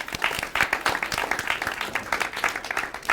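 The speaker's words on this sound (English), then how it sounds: "Round of applause to her" An audience applauds at a fashion show, clapping in quick irregular bursts, close and moderately loud, with some cheering mixed in and no clear talk.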